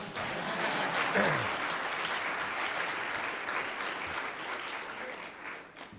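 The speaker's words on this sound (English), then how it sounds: "That's a clap, folks." An audience at a county executive budget address applauds in a steady, dense wash of clapping that holds for several seconds and then begins to thin.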